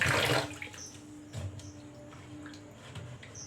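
Broken wheat (dalia) being washed in a bowl: a burst of running water at the start, then softer splashes and sloshing with a faint steady hum, close by.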